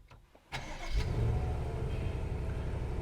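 Engine start of a 2023 BMW M850i Gran Coupe set to Sports Plus mode: a quiet lead-in, then a sharp starter crank and loud bark that settles into a steady, deep rumbling idle, close up with no talking.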